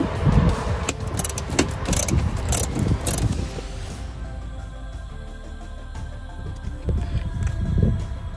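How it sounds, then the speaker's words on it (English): A ratchet fitted with a 90-degree angle socket turns screws in a tight spot, giving a run of quick clicking bursts that are loud at first, pause, then return, with no voices over them. "One of these 90 angle sockets. You just have to get in there and turn the screws."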